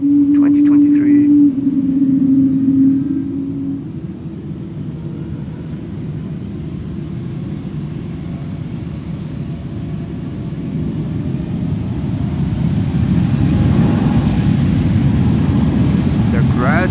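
A two-year-old airliner bound for Riga throttles up its engines for takeoff at Schiphol, a low rumbling roar that builds gradually and grows louder toward the end, heard at a distance in wind with faint tonal hum.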